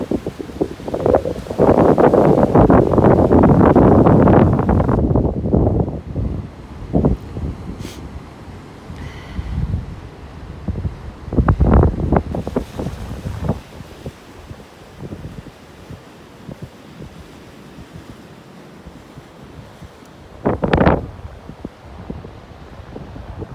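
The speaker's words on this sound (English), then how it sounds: "Open ocean." Strong wind buffeting the microphone over open ocean water from a boat, a loud gusty roar at first that eases into quieter sloshing and splashes, with occasional sharper bursts.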